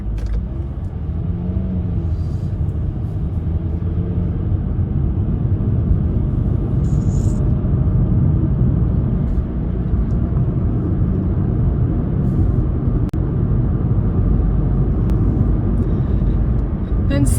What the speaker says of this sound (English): there's a little bit more traffic behind me than what I thought.